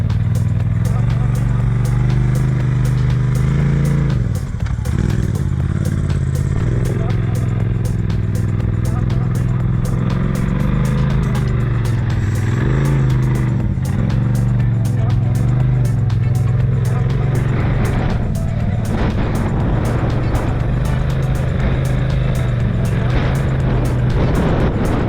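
A UTV driving by in strong, gusty wind, its engine a constant low rumble under heavy wind buffeting, with people talking over it throughout.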